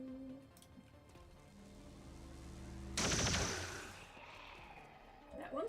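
Gunfire in the video game XCOM 2, a sudden loud burst of rapid shots that decays over about a second, after a stretch of low game ambience and faint speech.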